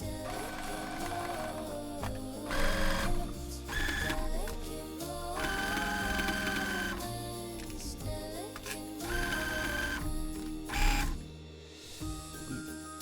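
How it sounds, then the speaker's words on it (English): A sewing machine runs in rapid bursts, stitching a half-inch seam on a little girl's wrap dress; mechanical whirring and clatter start and stop several times, close and fairly loud with no talking. "So I'm going to take that to the sewing machine and get that sewn."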